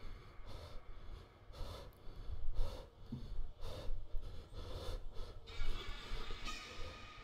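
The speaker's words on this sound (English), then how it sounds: "It's just like someone's breathing in my ear." Heavy, rasping breaths in The Return To Freddy's horror game come in repeated close, loud pulses, each inhale and exhale swelling and fading as if right at the ear, over a low rumbling background.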